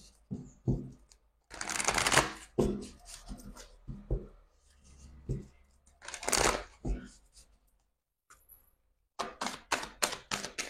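Moon oracle cards shuffled by hand for a tarot-style reading, with several bursts of riffling and rustling card sounds separated by pauses, close and clear, and a voice speaking softly between them.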